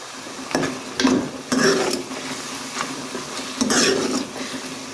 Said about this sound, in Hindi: हमें ये मसाले भूनने हैं ताकि अच्छे से ये सारे मसाले ऑयल में भुन जाए